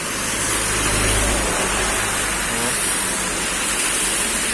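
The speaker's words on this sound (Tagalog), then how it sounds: "Nga lang may ulan." Rain falls during a motorcycle ride through Albay and Sorsogon, a dense, loud, steady wash of hissing noise with a low rumble underneath at first, continuous throughout.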